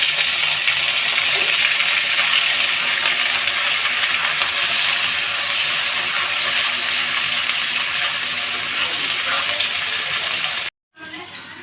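Onion, garlic and ginger paste going into hot oil already spiced with bay leaf, cardamom, cinnamon and cumin for a prawn malai curry: a loud, continuous hiss and sizzle that runs evenly, then drops out abruptly near the end.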